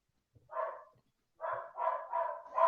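A dog barks nearby, with one bark followed by a pause and then a quick run of four more loud barks, and no one speaks over it.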